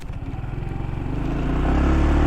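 Small engine revving up from a pulsing idle into a rising, steady drone as a Honda ADV 150 scooter pulls away, loud and close.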